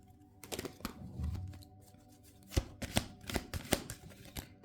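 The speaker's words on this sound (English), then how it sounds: "but we're gonna shuffle." Tarot cards shuffled by hand in a quiet room, a few riffling bursts and sharp slaps of the deck, close and clear with soft handling noise between them.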